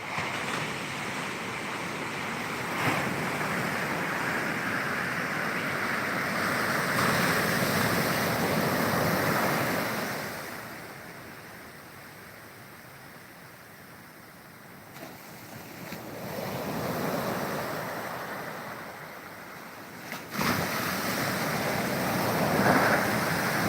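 Ocean surf on the shore in Ghana, heavy waves surging in, crashing and drawing back in long swells over more than twenty seconds, steady and fairly loud with no voices.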